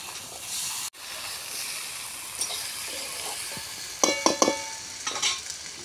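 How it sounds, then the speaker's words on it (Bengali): Bhetki fish bones stir-fry in a hot pan, a steady hiss and sizzle broken by a sharp knock and later by clattering stirring strokes, close with no talking. "এবার ভালো করে কষাতে থাকবে।"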